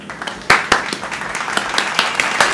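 A crowd claps in a burst of applause, sharp irregular hand claps overlapping steadily at moderate loudness.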